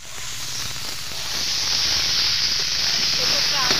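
Jackfruit curry sautéing in a pan with sour yogurt added, a loud, continuous steamy hiss and sizzle that swells slightly partway through.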